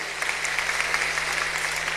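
A church congregation gives lively, sustained applause during a sermon, an even crackle of many hands clapping at a constant level, with a low steady hum running underneath.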